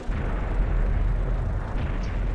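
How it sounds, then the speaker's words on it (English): A tank cannon shot hits an E100 in World of Tanks, landing as a loud, booming impact with a heavy, rumbling tail that lasts a couple of seconds. "our shot actually hits the E100 for 855 damage"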